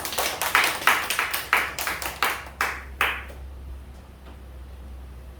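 A church congregation claps in a reverberant hall, about a dozen sharp, evenly timed claps in unison that thin out and stop after a few seconds, leaving quiet room tone.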